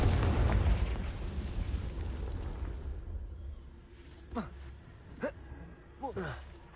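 A Confringo fire spell blasts in Hogwarts Legacy: a loud roaring burst that fades over a few seconds, then a few short whooshing spell sounds follow, with faint voice underneath.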